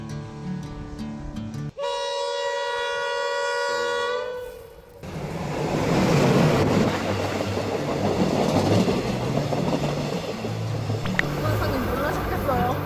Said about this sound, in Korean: 여기 기차가 마침 지나간다고 해서 한번 보고 갑시다